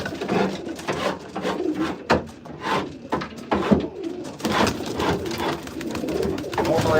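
Pigeons cooing in a loft, soft throaty calls repeating close by over knocks and scrapes of morning cleaning chores.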